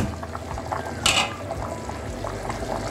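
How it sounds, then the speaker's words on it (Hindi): Water comes to a boil in a pot on the stove before rice is added, a steady low bubbling hiss with one brief louder splashing surge, no voices. "अब देखिए पानी का बॉईल आ चुका है"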